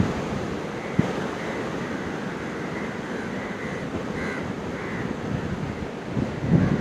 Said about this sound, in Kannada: ಇಲ್ಲಿ ಬೀಚ್ ಹತ್ರ ಗಾಳಿ ಜಾಸ್ತಿ ಅಲ್ವಾ